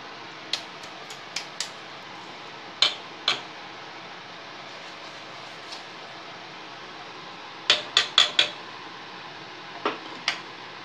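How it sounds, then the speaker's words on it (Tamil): A ladle stirs powdered rock sugar and cardamom into a pot of sweet pongal. Sharp metallic clinks against the pot come in scattered single taps and quick clusters, close and clear, with no voices. "இப்போ இதையும் போட்டு நல்லா கிண்டி விட்டு"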